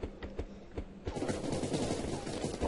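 Rapid automatic gunfire from a video game weapon, a quick series of bursts that thickens into a dense, continuous rattle.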